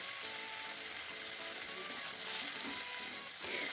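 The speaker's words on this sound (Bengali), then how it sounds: "এটা ভাজা হয়ে এসেছে এর মধ্যে দিয়ে দিলাম টমেটোগুলোকে" Tomatoes dropped into a pan of frying mushrooms, a steady bright sizzle with faint stirring scrapes, close and continuous with no talking.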